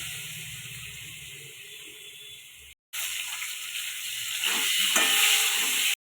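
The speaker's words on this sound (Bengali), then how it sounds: "এলাচ ফোড়ন দিয়ে দিচ্ছি" Whole spices (cardamom, bay leaf, dried red chilli and cinnamon) are tempered in hot oil for a cauliflower roast, giving a steady broadband sizzle and hiss that cuts out briefly, then returns louder and fuller.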